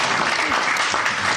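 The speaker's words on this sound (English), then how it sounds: "Well, and we already have applause." Audience applauding loudly throughout at a televised debate between Occupy and Tea Party supporters, a dense steady wash of clapping with faint voices mixed in.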